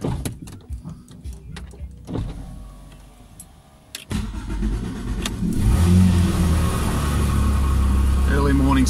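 Early in the morning a Porsche GT3 engine starts up nearby after a few clicks and quiet moments, then settles into a loud, steady idle; a person talks over it.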